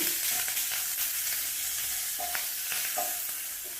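Onions frying with salt in a pan for an okra stir-fry, a steady close sizzle with a few light spatula scrapes and taps as they are stirred, no voices.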